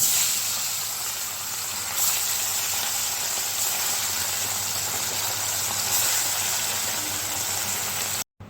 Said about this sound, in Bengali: সব মাছগুলো আমি এইভাবে ভেজে নেব।